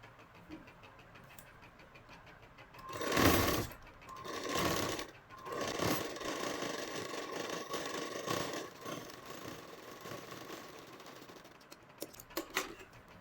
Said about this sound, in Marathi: आता शिलाई करून घेऊया